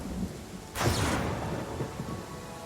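Rain and thunder in the video game Pathfinder: Kingmaker: a sudden thunderclap breaks over steady, soft rainfall and then rolls off into a low rumble, with no voices.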